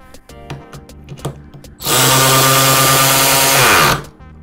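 Milwaukee M12 FUEL 3/8-inch high speed ratchet running nuts down: a few light clicks and handling knocks, then a loud, steady high-pitched motor whir for about two seconds that winds down and stops.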